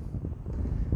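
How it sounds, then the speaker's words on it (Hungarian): Strong wind gusting across an exposed hillside in a coastal national park near Albir, buffeting the microphone with a low, continuous roar over about a second. "most nagyon feltámadt a szél"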